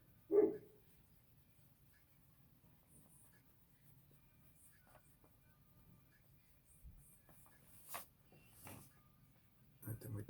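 A dog lets out one short, loud bark right at the start, followed by a quiet room with faint scattered clicks and rustles and no other barking.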